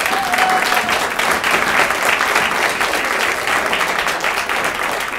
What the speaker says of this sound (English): Would they please stand for our applause